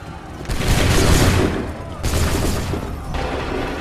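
Massed musket fire in Assassin's Creed 3, a loud rolling volley crackling across the line with a second ragged burst following, shouted commands and voices mixed in.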